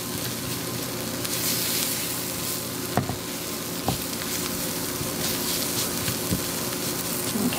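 Flour, pepper, butter and onions sizzle steadily in a pan for a veggie mac and cheese roux, a continuous close frying hiss with a few soft stirring knocks and no talking.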